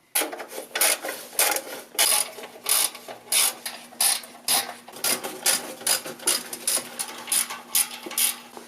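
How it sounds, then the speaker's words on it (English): A ratchet wrench backs out 10mm bolts from the exhaust header of a 1.6L Mazda MX5 Miata, giving rapid, close clicking bursts in a steady rhythm with short pauses between. "you have to remove all the hardware that holds it on. And there are all these 10mm bolts on there"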